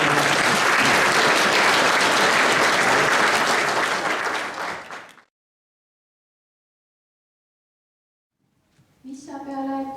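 Warm audience applause at a school's 95th jubilee ceremony honoring Ülo, a full hall clapping steadily for about five seconds before fading to silence, followed by a voice starting to speak.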